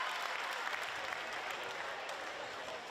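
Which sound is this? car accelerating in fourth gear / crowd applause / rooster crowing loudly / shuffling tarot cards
crowd applause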